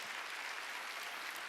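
A church congregation clapping together during a Sunday worship service, dense continuous applause heard from within the crowd, filling the whole moment with no break.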